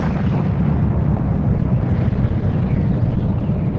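Supernova explosion sound effect for a documentary on black holes and dying giant stars: a loud, sustained, deep roaring rumble that holds steady for several seconds, heard alone without narration.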